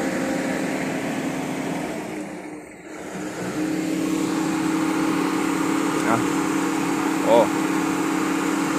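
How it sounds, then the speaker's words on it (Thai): A vehicle driving off a trailer has its engine revving hard, giving a sustained droning tone that holds through most of the stretch. A brief exclamation and some talk are heard nearby. "ปกติลงเทเลอร์นี่ไม่น่าจะเร่งเครื่องแรงขนาดนี้นะครับว่าอันตรายครับ"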